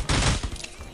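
A short, loud burst of rapid AK rifle fire in the Rules of Survival shooter game, a dense rattle that fades out within a second.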